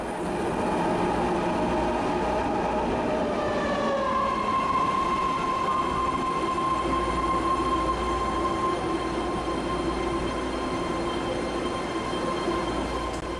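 A BART legacy train in San Francisco rolls past with a loud, steady rumble of wheels on track and a long high-pitched wheel squeal running through it, close and continuous.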